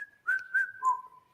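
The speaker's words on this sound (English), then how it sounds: "And sometimes I whistle it." A person whistles a short message, three clear close tones with a quiet intake at the start, the last note dropping lower and fading out.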